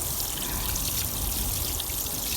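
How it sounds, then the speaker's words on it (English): Water pours steadily onto a freshly divided and potted bleeding heart plant in a spring garden, a continuous splashing trickle at close range with no speech. "I'm just going to water this one in really, really well"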